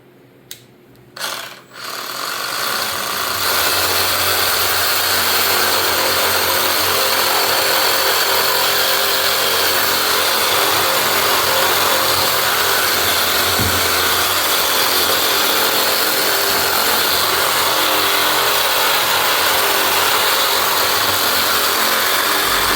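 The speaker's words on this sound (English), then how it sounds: "going right between the eye socket and antler burr. I'm gonna make that cut first." Power saw cutting through a whitetail deer skull between the eye socket and antler burr, a loud, continuous close-up whine and grind that starts after a few brief bursts and runs unbroken for about twenty seconds.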